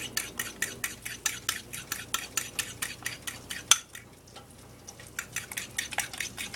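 Food being scrambled in butter in a pan, with rapid rhythmic scraping strokes of a utensil against the metal over a soft sizzle, a short pause midway, then quicker stirring again.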